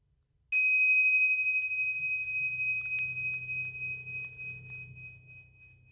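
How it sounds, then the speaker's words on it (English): A mindfulness bell in a classroom is struck once, giving a bright, clear ring that sustains and slowly fades over several seconds above a low, soft background rumble. "use the bell to focus"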